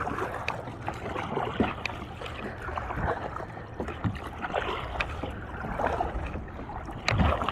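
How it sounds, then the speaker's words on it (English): A kayak is paddled on the ocean during a fishing trip, with steady water swishes and splashes from the strokes over a continuous wash of wind and sea, close and moderately loud. "So I'm paddling all the way back."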